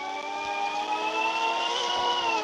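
A glowing car drives in the Roblox video game, giving a smooth steady tonal whine with a slowly rising pitch, loud and continuous with no talk.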